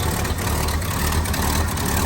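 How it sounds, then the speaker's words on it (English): A 1968 Ford Galaxie convertible's 390 V8 idles smoothly and steadily, a dense low rumble up close, continuous with no talk. "390 runs nice and smooth"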